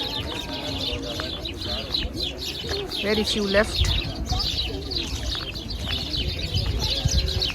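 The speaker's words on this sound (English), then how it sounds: "and here are some pigeons." Pigeons cooing and chirping among the old carved pigeon houses of Cappadocia, a steady mix of soft coos and bird calls heard alongside a person talking nearby.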